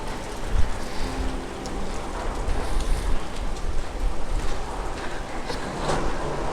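Heavy rain pours steadily outside an old convent courtyard dating from 1539, a dense, close, continuous hiss with no voices.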